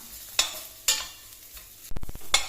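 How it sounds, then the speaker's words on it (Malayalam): A spoon scrapes around a frying pan of turmeric and chili powder in a few separate strokes, with a quick burst of rapid scraping, close and fairly quiet. "ഇളക്കി കൊടുക്കാം"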